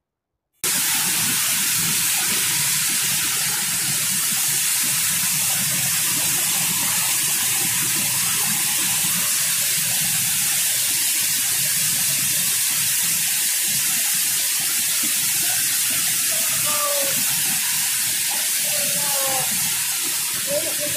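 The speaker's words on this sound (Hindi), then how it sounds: "ये देखिए मेन कुंड, मेन झरना जहाँ लोगों नहाते उहाते हैं।" The Kakolat waterfall pours into its main pool, a loud, steady rushing roar of falling water that continues unbroken, with a few faint chirps later on.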